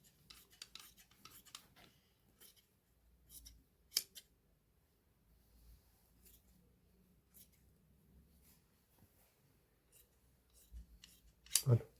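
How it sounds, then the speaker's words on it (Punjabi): Scissors cut through the fabric belt of a salwar with a few quiet, close snips spread across the stretch and a sharper, louder cut near the end. "ਇਹਦਾ ਕੁੰਡਾ ਕੱਟ ਕੇ ਫਿਰ ਬੈਲਟ ਦਾ ਕੰਮ ਵੀ ਆਪਣਾ ਨਿਬੜ ਜਾਊਗਾ"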